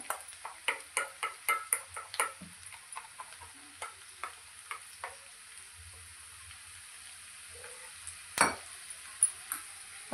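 Onions frying in a pan toward a golden colour, a quiet steady sizzle under a run of sharp spatula taps and clinks that thin out, with one louder knock near the end.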